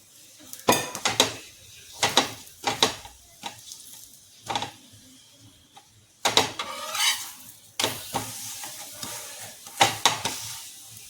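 Methi paratha cooking with oil on a pan and being flipped: a soft sizzle broken by loud utensil clatters and scrapes against the pan in irregular bursts.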